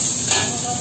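Noodles tossed and stirred in a hot pan, a short close burst of sizzling hiss with scraping as they are mixed.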